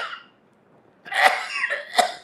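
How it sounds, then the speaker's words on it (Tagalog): A short breath sound, then a pause, followed by a burst of two or three harsh coughs close to the microphone. "nagsugod na kong ubo"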